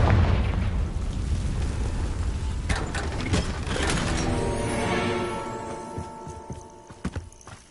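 Confringo fire spell explosions in the Hogwarts Legacy video game, heard as several loud booming bursts over a busy game soundscape with hoofbeat-like clatter.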